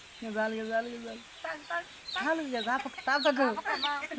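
Close, repeated cheeping and clucking from a young chick being given a drink. A longer, steadier call opens the clip and quick chirps follow, with voices nearby.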